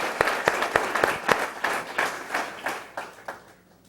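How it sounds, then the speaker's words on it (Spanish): A church congregation applauds during a Spanish-language sermon, with a brisk burst of clapping that thins out and fades to quiet by the end. "Démosle un aplauso al Señor Jesucristo"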